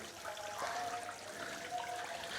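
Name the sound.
garden fountain running water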